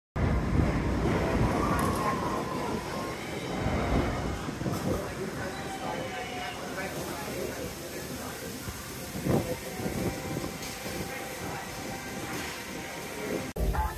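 The Grand National roller coaster train runs at Blackpool Pleasure Beach with a sustained rolling, rattling rumble, loudest at the start and then easing, while people talk nearby.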